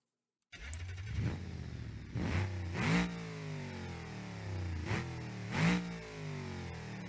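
Engine of a cop car in BeamNG.drive starts and revs hard against a 2-step launch limiter, several rising and falling revs that fill the clip and sound close and loud.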